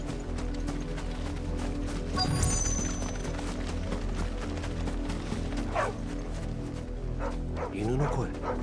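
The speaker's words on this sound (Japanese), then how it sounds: "犬の声。" Dog barking in the video game Final Fantasy XVI, heard in a game village near a windmill, a few barks sitting under steady game music and ambience, moderately loud.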